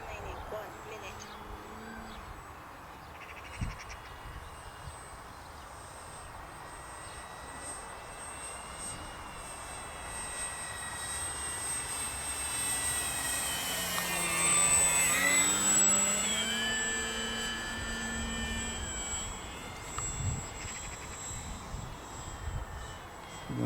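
An E-flite 1.5m M7 Maule radio control airplane flies outdoors over grass, its engine a steady drone that swells as it passes close around the middle and then eases off, with talk now and then over it.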